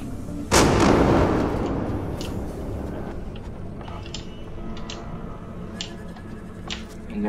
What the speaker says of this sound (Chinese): 应该是枪的声音